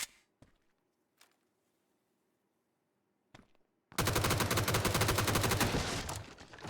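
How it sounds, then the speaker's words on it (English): Rapid automatic gunfire from a shooting video game in a 1v1 bomb plant-or-defuse round, bursting in loud and continuous after a few faint isolated clicks and near-silence. "What is bro shooting at?"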